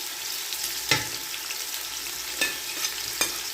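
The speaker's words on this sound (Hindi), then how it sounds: "अभी इसको हम 2 से 3 मिनट तक भूनते हैं" Ingredients for Saraiki biryani fry with a steady low sizzle in a pot, broken by a few sharp clinks and scrapes of a stirring spoon, with no one speaking.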